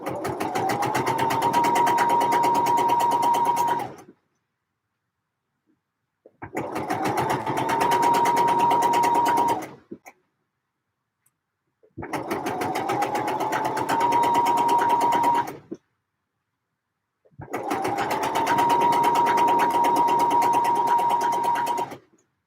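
A sewing machine stitches trousers in four steady bursts of rapid, whirring needle action, each lasting several seconds and separated by short silent pauses, loud and close.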